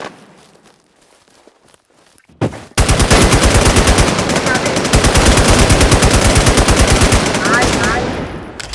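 Rapid automatic gunfire in the shooter game Warz erupts after a few seconds of quiet footsteps, a loud, dense, sustained burst of rhythmic shots that runs nearly to the end.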